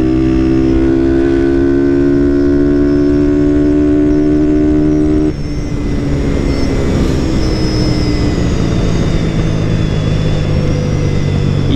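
A loud Honda Twister motorcycle engine drones with steady tones, then shifts and rises in pitch as it revs higher on the street, with rushing wind noise throughout.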